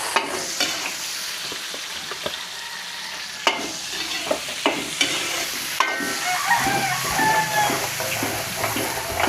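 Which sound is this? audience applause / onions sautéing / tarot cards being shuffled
onions sautéing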